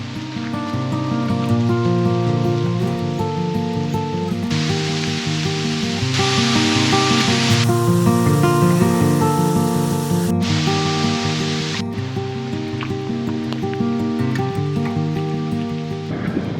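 A waterfall near Cairns in tropical Queensland throws off spray with a loud, steady, close roar of falling water that swells slightly and holds without a break.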